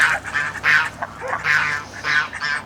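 Ducks quack repeatedly nearby in loud, rhythmic bursts, four main calls in quick succession with no talking.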